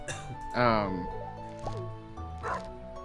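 A dog barks in the farming game Stardew Valley, a short yipping bark rising clearly over background game music, with a voice talking around it.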